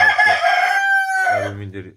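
A rooster crows once, loud and close, a drawn-out call that falls in pitch, followed by low clucking from hens nearby.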